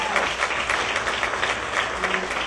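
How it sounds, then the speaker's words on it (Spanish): A church congregation claps steadily for two men, the applause loud and even throughout with faint voices mixed beneath it. "Den un aplauso a esos dos hombres que ven aquí adentro."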